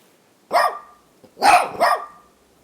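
A mine-detection dog gives three sharp, loud barks up close: one single bark, a short pause, then two in quick succession against near silence.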